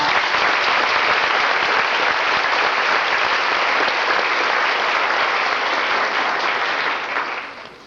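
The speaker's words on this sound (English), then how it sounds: "Let's give these 6 students another round of applause." Sustained audience applause at a 1987 high school senior honors night in Gallatin, Tennessee: a dense, steady wash of many clapping hands that tapers slightly at the close.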